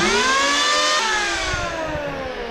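An Aldi electric planer set to a 1 mm cut depth chamfering a wood edge, its motor giving a loud, steady, strongly tonal whine that sags slightly in pitch as it bites, with no talking.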